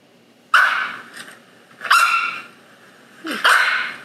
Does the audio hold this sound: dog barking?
yes